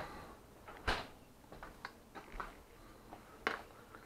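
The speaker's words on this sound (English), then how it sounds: "Put that back in the refrigerator." A home refrigerator door opens and shuts, heard as a series of soft, close knocks and clicks with one sharper thump near the start and another toward the end, no talking.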